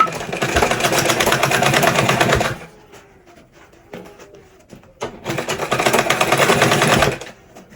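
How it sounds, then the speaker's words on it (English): A sewing machine pleats and stitches fabric for a padded turban, running loud and close in a fast, steady whir for a couple of seconds, pausing amid quiet handling, then running again in a second long burst. "I decided to do the machine pleating."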